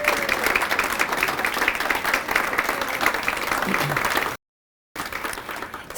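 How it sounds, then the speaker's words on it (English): Audience at a volunteer breakfast claps for the club's ride leaders: dense, steady applause filling the room, briefly cut off by a gap near the end before resuming. "will you guys please stand up for a little round of applause?"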